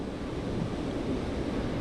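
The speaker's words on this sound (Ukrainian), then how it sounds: "отут іде перетік води з іншого ставочка" Steady rushing water flowing through a channel from one small pond into another, a continuous broadband wash with some wind noise on the microphone, with no talking.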